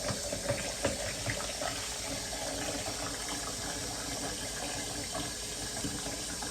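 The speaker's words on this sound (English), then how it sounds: "usually what I do is just fill the rest of it up with water" Tap water runs into a container, a steady rushing stream with a few clinks early on, moderately close and without talk.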